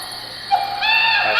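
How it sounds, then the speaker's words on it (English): A single spooky owl hoot, one short clear call rising then holding, rings out alone against a quiet background. "An owl."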